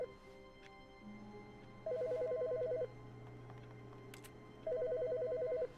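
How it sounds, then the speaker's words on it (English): Telephone ringing in the video game The Stanley Parable Ultra Deluxe: two loud electronic ring bursts about three seconds apart, each lasting roughly a second, over a steady low game hum, with no talking. "I heard a phone."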